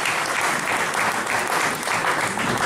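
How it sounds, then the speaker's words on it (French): Loud, sustained audience applause from a crowd at a Congolese community gathering, dense clapping continuing steadily without pause throughout. "Vos applaudissements, s'il vous plaît"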